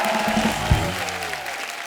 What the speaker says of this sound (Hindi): हमारे स्टार लोग के लिए जोरदार ताली।